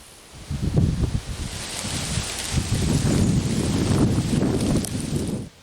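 Steady wind gusting and rushing through fallen leaves piled against a garden fence, a continuous loud outdoor rustle that swells and holds for several seconds.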